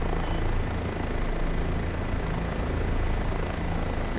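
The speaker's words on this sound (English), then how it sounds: "It's really beautiful to fly this helicopter." An OH-58D Kiowa helicopter in a video game flies with a constant, dense rotor and engine roar that stays even and loud throughout, with no talking.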